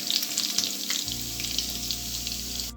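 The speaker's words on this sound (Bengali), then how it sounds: "আমার রসুন কুচিটা ভাজা হয়ে গেছে।" Chopped garlic sizzles in hot oil in a pan, a bright, close crackle with a low hum joining in after the first second, no one speaking.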